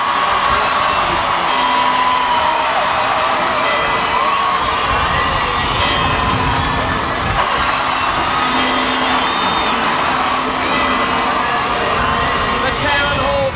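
A large crowd cheering and shouting continuously at a civic reception for the Newcastle Knights' 1997 rugby league grand final win, a loud, dense roar with scattered whoops and voices throughout.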